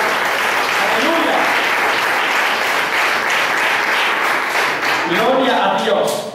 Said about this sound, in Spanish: Dale ese aplauso al Padre eterno.